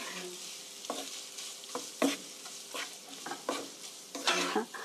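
Spaghetti tossed with scrambled eggs in a pan with the heat off, utensil scraping and stirring in irregular bursts over a soft residual sizzle, fairly quiet and close, no talking.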